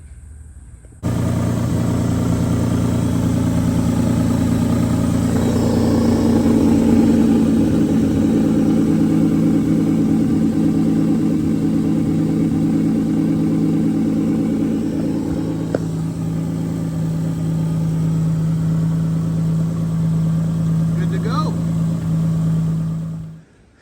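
A 2002 Mitsubishi Diamante VRX Mivec engine is cranked and settles into a steady, close idle with a low, even hum that runs for about twenty seconds before cutting off.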